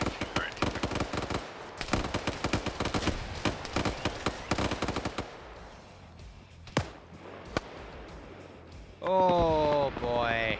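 Rapid bursts of automatic gunfire crackle through a video game battle, with dense volleys for the first few seconds, then scattered single shots and a loud vocal-like tone at the end; no talk.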